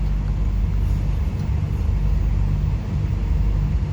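A truck engine rumbles deep and steady while the vehicle drives along a road between Uttaradit and Nakhon Thai and the driver shifts gears, with a loud, continuous low drone and faint road noise on top.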